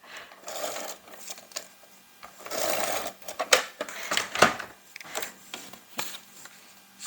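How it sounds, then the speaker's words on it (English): A large adhesive tape runner is drawn across card stock while making a mosaic card, giving a series of close, raspy scraping and clicking bursts with short pauses between strokes. "Excuse my massively huge tape runner here."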